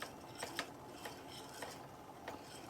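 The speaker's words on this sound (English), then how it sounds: "I'm just stirring this in." Homemade fettuccine Alfredo sauce being stirred in a pan, with faint, repeated light scrapes and clinks of a utensil against the cookware at an uneven rhythm, quiet and close.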